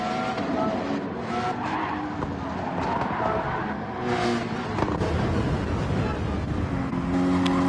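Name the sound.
race car spinning out on grass in a racing video game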